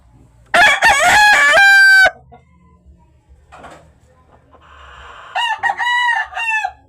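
A rooster crows loudly up close, a long harsh call, then after a pause another rooster crows again, slightly softer.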